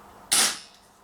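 A single sharp crack from a 6mm Marlin CO2 revolver fired at a target about 8 meters off, with a quick bright attack and a short fading tail, alone in a quiet setting.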